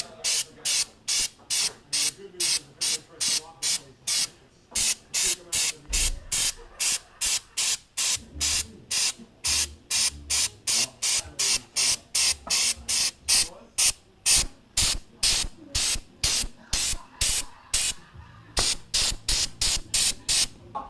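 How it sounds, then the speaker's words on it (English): Undercoating sprayed from an aerosol can into the fender wells of a Toyota MR2: dozens of loud, close, hissing bursts in a steady rhythm, each about half a second long, continuing throughout with no talking. "and we're gonna spray her now."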